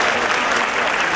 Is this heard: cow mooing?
no